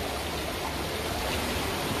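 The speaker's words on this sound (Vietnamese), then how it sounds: "Đấy, nước chảy róc rách." Babbling mountain stream near Bản Tả Phìn in Sa Pa, a steady, close rush of flowing water with an even, hissing texture throughout and no voices.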